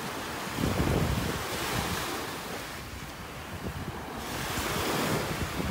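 Surf breaking on a Southwest Florida beach, a steady broadband wash of waves with gentle swells in loudness, mixed with wind buffeting the microphone and no voices.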